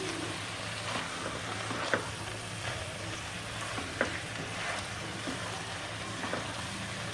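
Paneer and salt fry in a pan with a steady, moderately loud sizzle, while a few sharp scrapes and taps mark the stirring throughout.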